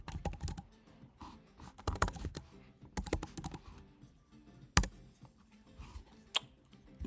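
Computer keyboard typing code, bursts of quick, close clicking keystrokes separated by short pauses, fairly quiet.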